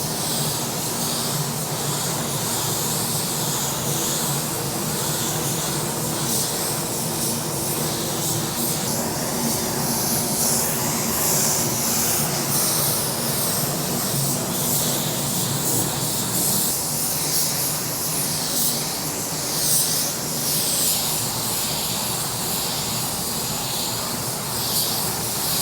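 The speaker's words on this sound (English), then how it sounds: "Now we have the first coat of paint on there" A Sagola 4600 spray gun lays down a first coat of paint, giving a steady, loud airy hiss that runs continuously without breaks and with no voices.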